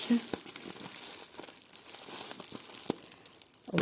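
Plastic film crinkles and crackles close by in irregular bursts, with occasional sharper snaps and tearing sounds amid quiet handling noise.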